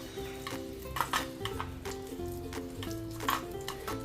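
An egg sizzles and crackles in a hot pan improvised from a can, up close, with intermittent scraping and clinks of a utensil against it.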